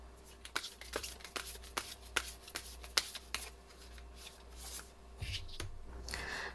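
Tarot cards are shuffled and handled up close in a quiet room, quick papery flicks and riffles in irregular bursts, with a low steady hum under them.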